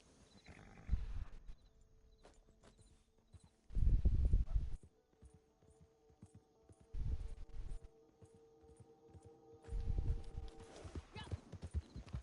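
A Turkoman horse's hooves clip-clop in Red Dead Redemption. The hoofbeats come in about four separate bursts of fairly close thuds, with quiet gaps between them.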